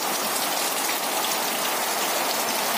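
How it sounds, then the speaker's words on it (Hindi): Heavy monsoon rain pours over the Mandar area near misty hills in India, a dense, steady hiss that holds at the same level from start to finish, with no voices. "8:05 पर बारिश तेज हो गई है"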